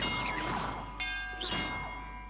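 Bell tower bells in the video game Hogwarts Legacy, with two bright ringing strikes about a second apart, each leaving a long shimmering decay, fairly close and heard alone.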